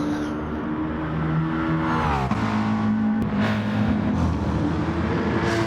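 Race car engine held at full throttle in Gran Turismo Sport at Monza, a steady loud droning whine with shifting harmonic pitch and a brief dip midway, continuous without talk.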